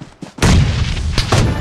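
A loud, close bomb blast in a video game, a sharp boom that rolls into a sustained rumble, with a second burst of crackling debris near the end.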